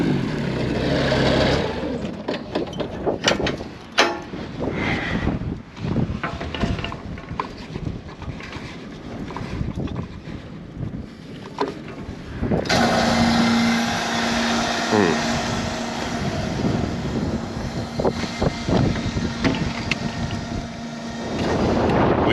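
A 7600 tractor drives out across open ground, its steady diesel engine rumbling continuously over heavy wind buffeting the microphone, with the engine note shifting partway through.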